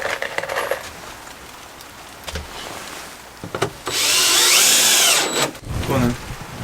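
A power drill drives screws into a wooden camper bed frame, with a few brief clicks and bumps, then a loud sustained whir lasting about a second and a half, and voices nearby.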